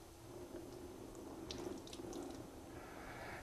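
Concentrated hydrochloric acid poured from a container onto bare skin gives a quiet, soft liquid trickle lasting a few seconds, with a faint splashy patter midway and no voices.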